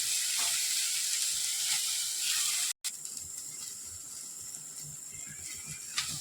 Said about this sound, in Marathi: कांदा भाजत असताना आपली गॅसची फ्लेम मिडियम फ्लेमवर ठेवायचा